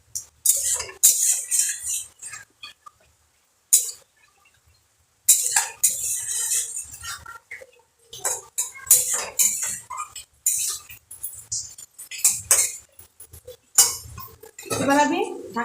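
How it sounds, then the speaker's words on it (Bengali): Bam fish with spices and a little water is stirred in a pan, making intermittent metallic scrapes and clinks of a spoon against the pan in irregular bursts separated by short pauses. "মশলার সঙ্গে মাছটাকে এবার ভালো করে কষিয়ে নেব।"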